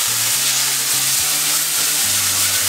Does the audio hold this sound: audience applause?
no